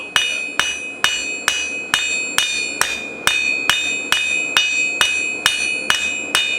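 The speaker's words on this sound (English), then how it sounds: "Taking the crossbeam side, crossbeam hammer, and I'm just kind of widening this out a little bit." A blacksmith's crossbeam hammer strikes flat steel stock in a steady, even rhythm, about fifteen loud ringing blows with sharp metallic decay, heard close and alone.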